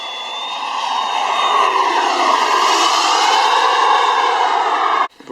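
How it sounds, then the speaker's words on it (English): A model F22 jet's Lambert Colibri T35 turbine engine runs with a loud, steady, high-pitched whine and roar, close up and unbroken, cutting off abruptly near the end. "I have previously this year built this F22 with a Lambert Colibri T35 engine"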